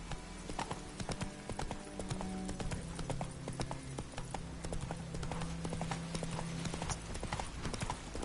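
A horse gallops in The Witcher 3, its steady rapid hoofbeats clopping throughout with no talk over them and game sounds humming underneath.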